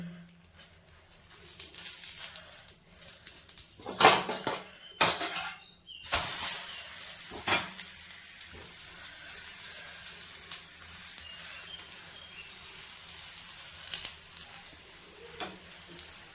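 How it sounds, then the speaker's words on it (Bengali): Parathas shallow-frying in white oil in a pan, turned until browned on both sides; a faint, steady sizzle runs throughout, broken by a few sharp utensil clatters, with no talking. "পরোটাটা দুপাশ করে লাল করে ভেজে নিতে লাগবে।"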